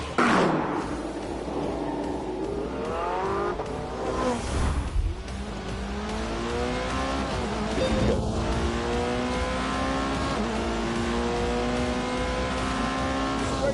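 A Porsche with rear-wheel steering and four-wheel drive races around the Algarve circuit in The Grand Tour video game, its engine revving and shifting through rising and falling gear sweeps, with a brief tire squeal along the way.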